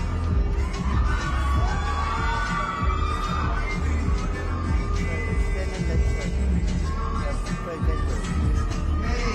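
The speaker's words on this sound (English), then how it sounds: "Let's give these boxers a nice round of applause." A boxing-event crowd at a Golden Gloves amateur show applauds and cheers, a dense continuous roar of clapping, shouts and hum that stays loud and even throughout, with voices mixed in.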